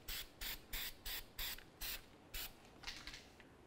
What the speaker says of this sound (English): I'm going to continue on with some penetrant on the adjuster just so I can make sure that it flows easily